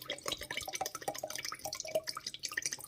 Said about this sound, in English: So I'm pouring it in the jerk seasoning bottle.